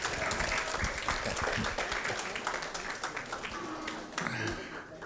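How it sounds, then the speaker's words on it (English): An audience at a taxpayers association candidates night applauds the candidates, a full, dense burst of clapping that starts strong and gradually tapers, with a few louder nearby claps and faint voices toward the end. "Please give them a big round of applause to our candidates here."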